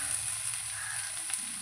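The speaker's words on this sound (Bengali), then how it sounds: "এটা আমার ভালোভাবে ভাজা হয়ে গেছে।" Green beans, cooked as a vegetarian dish with chilli paste and green chillies, sizzle and fry in hot oil in a pan, giving a steady close hiss that holds without a break and has no talk over it.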